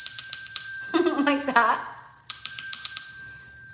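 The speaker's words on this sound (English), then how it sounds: "we had a little triangle like bell thing, come and get it." A small triangle dinner bell rings in rapid, bright metallic strikes, then pauses while a person speaks briefly, and rings again in another quick burst with a lingering sustained tone.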